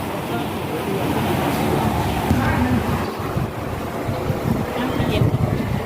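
Steady rushing wind buffeting the microphone at a Bobae clothing market, loud and continuous, with a faint low rumble underneath and no clear talking.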